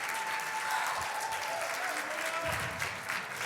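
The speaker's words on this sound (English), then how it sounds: "can we give them a round of applause for all of their work and efforts?" Audience applauding a team at a 2017 interview competition event, steady dense clapping filling the room for several seconds, with a faint whistle or voice tone drifting over it.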